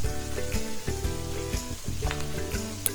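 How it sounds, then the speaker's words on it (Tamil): Grated ginger and garlic sizzle in oil in a pan while being stirred, a close, continuous fry broken by repeated scraping and clinking strokes, with no talking. "இஞ்சி பூண்டு பச்சை வாசம் போகிற அளவுக்கு நல்லா வணங்கட்டுங்க"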